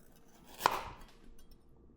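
A single sharp knife chop through vegetables on a cutting board, heard once, fairly quiet and close, with no talking, while a vegetable side dish is prepared for an air fryer salmon meal.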